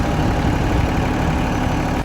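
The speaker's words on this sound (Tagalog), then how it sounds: "Ang kanyang makina ay 3D84-1B." A Komatsu PC30-3 mini backhoe with a 3D84-1B diesel engine runs steadily, a loud, continuous low rumble with no pauses.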